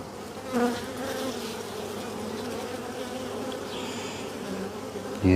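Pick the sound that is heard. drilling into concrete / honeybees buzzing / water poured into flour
honeybees buzzing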